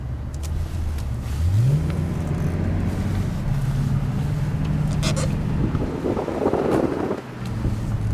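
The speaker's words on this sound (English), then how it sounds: "We're going over speed bumps" A 2008 Mercedes-Benz S65 AMG engine hums from inside the car, rising in pitch as it accelerates, then settling. Muffled thumps and rattles come as it rolls over speed bumps, with wind noise on the microphone.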